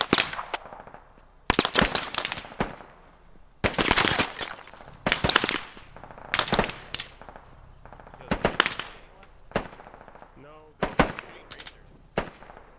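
A 105 artillery gun fires in the military game Squad, with repeated loud booming blasts and sharp cracks at irregular intervals, some close and some more distant, amid faint chatter.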